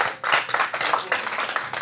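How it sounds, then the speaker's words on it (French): Audience clapping at a magic show as a volunteer is called up, a short burst of applause that starts abruptly and carries on in uneven claps from a smallish crowd, close and fairly loud. "on peut tous applaudir Germain."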